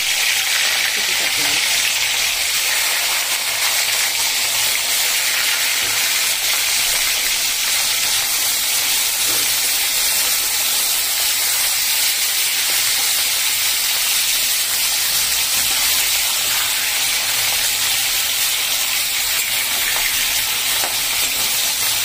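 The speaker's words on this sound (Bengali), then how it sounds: "আমি এখানে এবারে এই ছাকা তেলে মাছগুলো আমি ভেজে নিচ্ছি।" Pieces of katla fish fry in hot strained oil, giving a loud, steady, unbroken sizzle and hiss that runs the whole time at close range.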